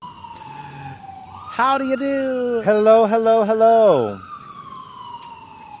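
A wailing emergency vehicle siren sweeps up and holds a steady pitched tone before fading, loud and nearby on a New York City street by Tompkins Square Park in the Lower East Side, with a brief greeting spoken.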